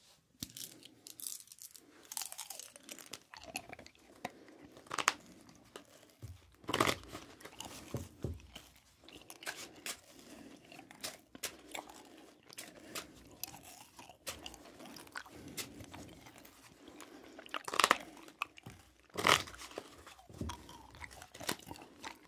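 Close-miked ASMR of chewy candy being unwrapped and chewed: soft sticky chews, bites and crinkles of wrapper come in irregular bursts over a quiet background.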